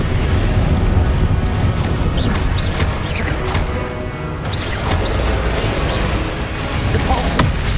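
An Incendio fire spell is cast in Hogwarts Legacy, booming and crackling into a dense roar of magical combat effects, loud and continuous with a brief dip midway.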